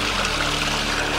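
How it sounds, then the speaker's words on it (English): A small stream runs across a muddy footpath and down into a weir, giving a loud, steady, close rush of flowing water with no breaks. "on the plus side you can wash your boots in this stream"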